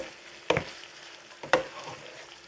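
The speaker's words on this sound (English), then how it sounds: "let make sure our ground beef gets cooked all the way through" Ground beef cooks in a skillet for a Mexican-style one-pan pasta, a faint low sizzle punctuated by two distinct scraping stirs about a second apart.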